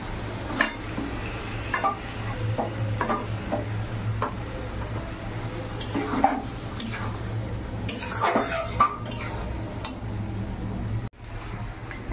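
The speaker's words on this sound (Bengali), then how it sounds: "এখন চিকেন আলু দিয়ে দিয়েছি, এখন কষানো হচ্ছে" Chicken and potatoes stirred and sautéed in a pot with spices, mostly metal spoon clanks and scrapes against the pot over a soft low sizzle, repeated irregularly throughout.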